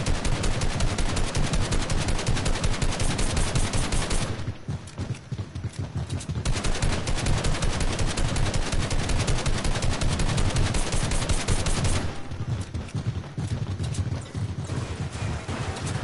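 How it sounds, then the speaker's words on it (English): Fireworks going off in a video game, a dense, loud string of rapid crackling bursts that runs almost continuously, broken by two short quieter gaps. "act like I don't see you over here setting up fireworks."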